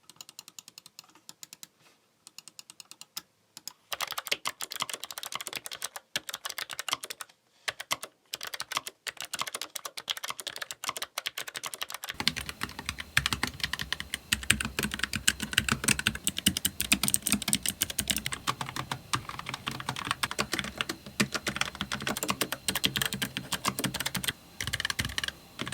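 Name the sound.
typing on Logitech and Keychron mechanical keyboard switches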